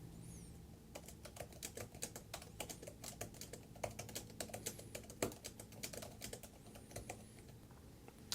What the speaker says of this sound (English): let's take a look at how this integrated keyboard works in a